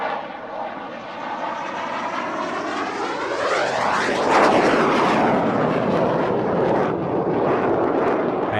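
An aircraft arrives on arrivals day at the Royal International Air Tattoo 2000 at Cottesmore. Its loud, steady engine roar swells and sweeps in pitch as it passes close by.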